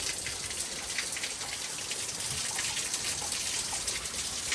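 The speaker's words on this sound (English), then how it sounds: "I got it set for 73 because it's raining and chilly out" Steady rain falls outdoors on a chilly day, a dense continuous hiss of drops pattering on surfaces, close and fairly loud throughout with no pauses and no voices.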